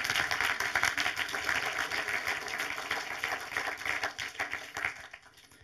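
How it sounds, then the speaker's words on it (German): A cinema audience at a film talk applauds together, a dense close wash of clapping that holds for several seconds and then thins and fades toward the end. "aber schon mal einen herzlichen Applaus"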